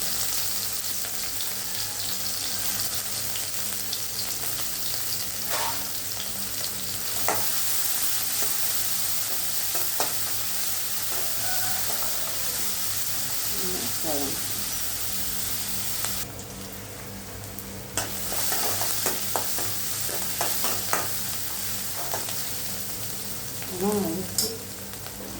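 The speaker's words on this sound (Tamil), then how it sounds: "சோம்பு பொரிவிட்டேன்." Fennel seeds frying in hot oil in a pan for a potato dish, a continuous loud sizzle close by with occasional stirring scrapes and faint voices underneath.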